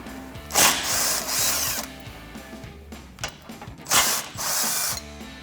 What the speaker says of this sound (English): I'm going to take my 17mm on my gun and remove these two bolts.